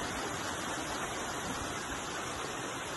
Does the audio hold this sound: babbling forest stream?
yes